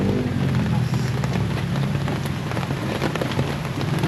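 Steady rain falls outdoors during home-service repair work on a 2016 Toyota Avanza, a dense continuous hiss with low rumble and no distinct talk, holding at an even loud level throughout.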